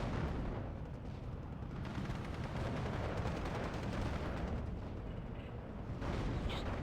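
Artillery and bomber strikes in the WWII strategy game Steel Division 2, a dense, continuous rumble of blasts and gunfire with no clear breaks.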